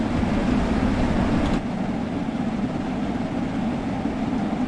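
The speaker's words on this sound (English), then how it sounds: "There's the train." A steam train in the video game Train Sim World 2 runs on the Liverpool to Crewe line, giving a loud, steady low rumble that drops slightly in level partway through and then carries on.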